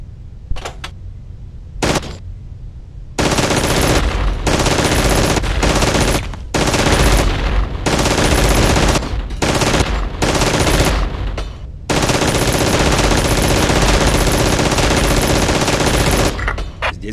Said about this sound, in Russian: Перестреляй их из этой пушки.